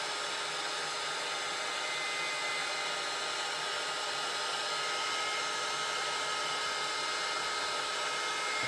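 A hair dryer blows steadily on fresh Krylon spray paint, a continuous loud whoosh with a high airy hiss that holds unchanged throughout with no voices.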